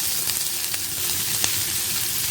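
Onions sizzle steadily in a hot pan for pasta Manchurian, a soft, continuous frying crackle with a few faint stirring ticks.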